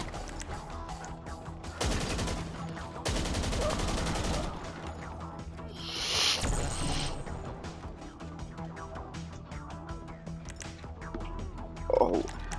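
Bursts of automatic gunfire crackle in GTA V, two rapid sustained volleys early on followed by scattered shots and a sharp swell around six seconds, all with no one speaking.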